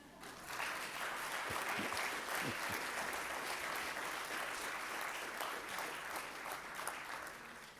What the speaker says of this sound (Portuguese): Se querem bater palmas, podem bater.